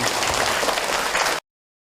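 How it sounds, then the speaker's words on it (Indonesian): Brief burst of audience applause at a religious talk, dense and fairly loud, cutting off abruptly after about a second and a half. "Tepuk tangan dong buat beliau yang bertanya tadi."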